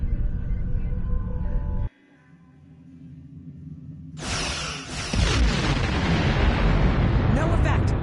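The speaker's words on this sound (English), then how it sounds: "Target that ship, and fire all weapons!" Starship weapons firing in Star Trek Online, with a sudden heavy burst of energy fire and booming impacts swelling into a loud sustained barrage after a quieter stretch of hum and game dialogue.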